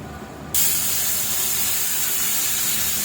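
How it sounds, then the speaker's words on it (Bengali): Nigella seeds dropped into hot oil in a wok start sizzling, a sudden loud hiss that jumps in and holds steady and close for the rest of the moment. "আবারও কড়াইতে তেল দিয়ে দিলাম তেল দিয়ে কালো জিরা সম্ভাজ দিয়ে দিলাম"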